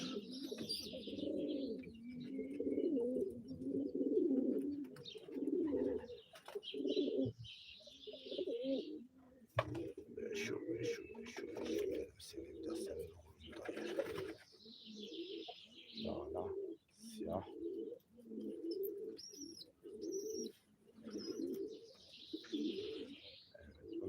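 Pigeons coo repeatedly in low, rhythmic bursts, close by, with occasional chirps and rustling between calls.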